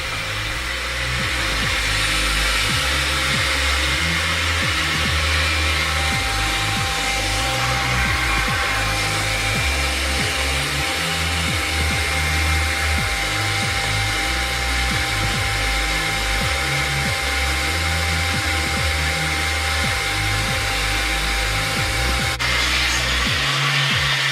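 Hair dryer blowing steadily while hair is detangled and blow-dried for a man bun, a loud unbroken whirring hum lasting the whole time with no talking.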